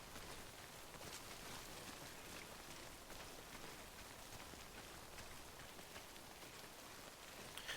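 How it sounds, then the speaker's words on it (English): Light rain in the video game Death Stranding, a faint, steady patter and hiss that continues evenly throughout with no other sounds. "It's just a little rain."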